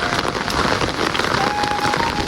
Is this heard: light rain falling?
yes